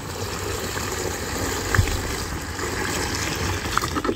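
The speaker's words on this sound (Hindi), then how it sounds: "ये पूरी कैन जो है 4 लीटर की, ये पूरी की पूरी पानी इसके अंदर डलेगा" Water pours from a 4-liter can into a container as a steady, close trickle and splash that runs unbroken for about four seconds, with a couple of small knocks.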